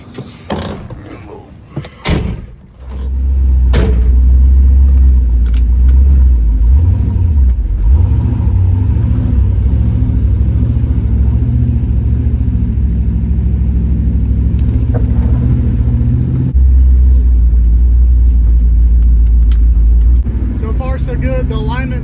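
Budget street-race build car pulling out onto the road, with a loud, steady engine drone and road rumble building after a few seconds of door and cabin noise, continuing strongly to the end.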